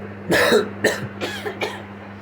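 A few close coughs in quick succession, one strong hack followed by three lighter ones, over a faint steady hum.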